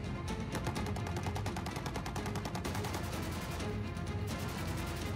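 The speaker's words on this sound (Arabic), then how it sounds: "تم إطلاق نيران تحذيرية." Rapid warning shots fired from a French destroyer, a dense continuous burst of automatic gunfire, loud and sustained with a brief break near the end.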